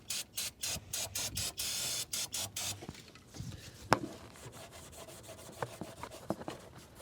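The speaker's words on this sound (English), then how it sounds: "a little Scotch-Brite and a little caustic Walmart brake cleaner" Scotch-Brite pad scrubbing an engine part from a Cadillac Escalade with brake cleaner, heard as rapid rhythmic rubbing strokes up close, then quieter scattered scraping, a sharp spray-like hiss and small clicks.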